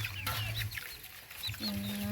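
Chickens cluck close by in short, busy bursts, with a longer drawn-out call near the end and a bit of background voice.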